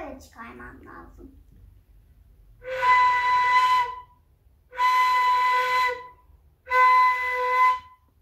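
A ney flute being played by a teacher during a lesson, three sustained breathy tones each lasting about a second, separated by short pauses, after a brief spoken phrase at the start.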